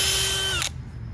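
A DeWalt DCD996 hammer drill spins at speed 3 with a loud, high whine that cuts off abruptly partway through, leaving a low hum.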